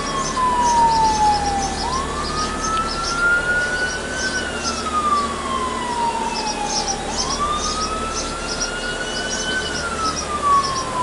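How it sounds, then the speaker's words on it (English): An ambulance siren passes on a road in Seguin, Texas, wailing in long rising and falling sweeps, fairly loud and steady, over faint background traffic and outdoor noise. "Ambulance, somebody had an accident."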